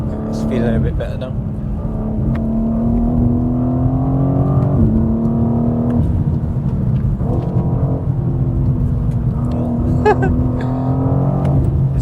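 A BMW G87 M2 with a Venturi intake accelerates hard on the road, its engine note rising steadily under continuous cabin noise while a person talks over it.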